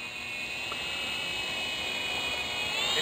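A homemade RC quadcopter in flight, a continuous high-pitched motor whine with a shrill tone that stays steady and slowly grows louder.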